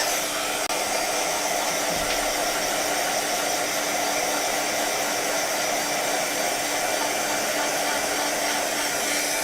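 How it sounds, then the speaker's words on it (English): A handheld dryer blowing on freshly stamped pigment ink, a loud, close, continuous whooshing whir that holds steady for the whole stretch without pause. "I am going to dry this since it was pigment ink"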